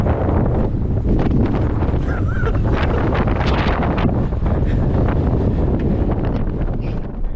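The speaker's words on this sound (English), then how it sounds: "listen to this wind" Strong, steady wind roars through Walker Pass, a desert mountain pass on Highway 178, buffeting the microphone with loud, continuous gusts and rumble from start to finish.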